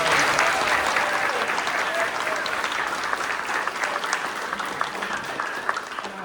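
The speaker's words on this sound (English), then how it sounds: "If we can give him a round of applause." Audience applause fills the hall after a choir concert, a steady dense wash of many hands clapping at fairly even loudness for several seconds with no voices on top.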